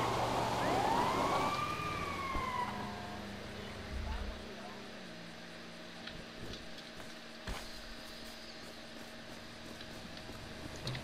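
An ambulance siren in GTA Online gives one rising and falling wail near the start, loud and close, then cuts off. Engine hum and a low background bed continue underneath while a voice talks.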